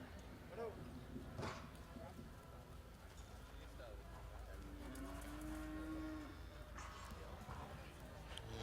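Cattle low at a campdraft, one drawn-out moo in the middle among constant crowd and arena noise, with an announcer talking over the scene.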